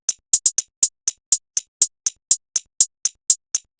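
Dry, unprocessed hi-hat track in a beat, a steady run of bright, sharp ticks with a quick rolled triplet near the start, harsh and close with nothing else playing.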